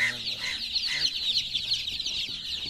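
Dyed colored chicks at a street shop cheep and cluck in a dense, continuous, high-pitched chorus, with faint voices in the background.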